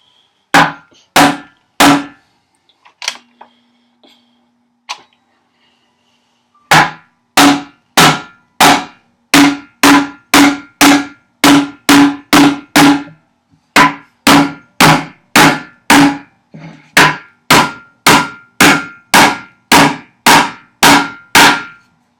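Loud, close hammer strikes on cut nails land in quick, regular bursts, a brief pause after a few blows, then dozens more steady whacks.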